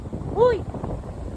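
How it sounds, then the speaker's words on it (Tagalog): Strong wind on Mount Calawis roars and buffets the microphone in a steady low rumble, with a short surprised exclamation from a voice partway through. "Grabe, hangin."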